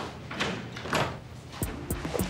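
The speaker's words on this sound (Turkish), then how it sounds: "Kapıyı da kapatayım." A door is pulled shut in a home setting, with some shuffling movement followed by a few sharp knocks and latch clicks near the end, close and fairly clear.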